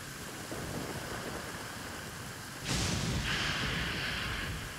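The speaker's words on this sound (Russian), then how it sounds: "Дождь пошел." Steady rain in the video game Genshin Impact hisses throughout, growing heavier partway through, with a brighter high tone joining near the end.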